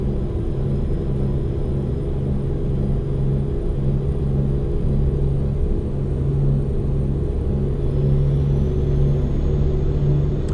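A Renault engine fitted to an old Mercedes truck in Euro Truck Simulator 2, hauling a cattle trailer, drones in a steady low rumble that holds an even pitch throughout, loud and close with no voices.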